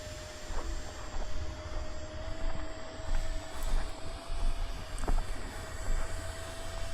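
A model jet aircraft engine runs steadily at half throttle, a constant loud whine and rushing roar with a sustained high tone, no talk.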